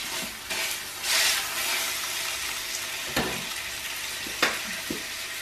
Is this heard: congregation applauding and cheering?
no